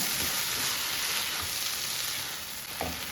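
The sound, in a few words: stirring egg chilli dry fry in a hot pan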